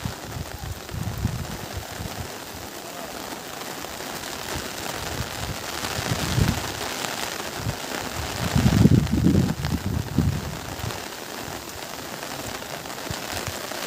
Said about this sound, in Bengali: কিন্তু এক্ষুনি যে মুষলধারে আবার বৃষ্টি শুরু হয়ে গিয়েছে